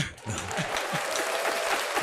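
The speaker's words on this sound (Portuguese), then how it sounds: "Dá uma salva de palmas, por favor" People in a podcast studio clap in steady, close-sounding applause that continues evenly, with faint low voice sounds underneath.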